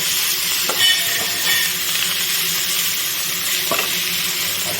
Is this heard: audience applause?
no